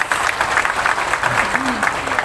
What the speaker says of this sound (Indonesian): Tepuk tangan untuk Hercules.